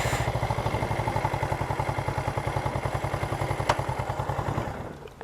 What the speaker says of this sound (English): Okay, he's adjusting the idle.